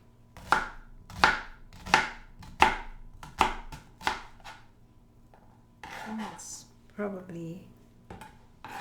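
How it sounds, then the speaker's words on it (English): A knife slices through an onion on a cutting board, about seven crisp, evenly spaced chops close up, followed by softer handling and board clatter. "The onion, we slice it thin also. Slice it half like that."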